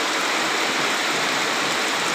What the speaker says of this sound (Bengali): রাত্রের থেকে সকাল 10টা পর্যন্ত কিন্তু বৃষ্টি অনবরত ছুটছে